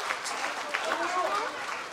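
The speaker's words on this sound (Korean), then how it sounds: "큰 박수 한번 쳐주세요" A crowd at an outdoor show on the performance stage of the 2018 Donghaksa cherry blossom festival keeps up a steady wash of clapping and cheering, with voices talking over it.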